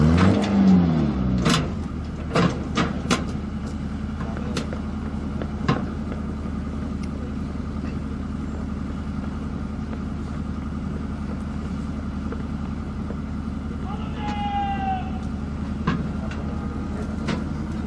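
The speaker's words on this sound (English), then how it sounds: "The gun is now being moved away to its firing platform to demonstrate its firing. Using the auxiliary power unit, the gun can move at a maximum speed of 7 kilometers per hour." A 12-ton artillery gun trundles along on its auxiliary power unit, a steady low engine drone with mechanical clanks and knocks near the start and a brief squealing whine later on.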